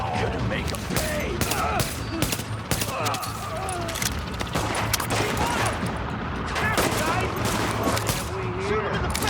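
Rapid bursts of gunfire in The Division, a dense stream of shots and volleys running throughout with heavy layered combat noise; voices shout over the shooting.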